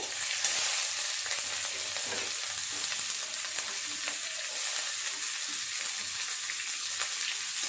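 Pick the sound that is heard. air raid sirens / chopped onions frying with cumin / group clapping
chopped onions frying with cumin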